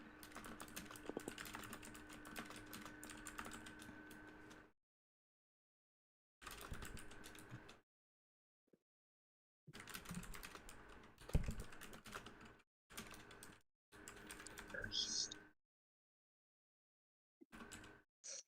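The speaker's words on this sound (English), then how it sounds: "That's a lot of typing." Computer keyboard typing comes in several quick, clattering bursts separated by silent gaps, close and fairly quiet, with no talking.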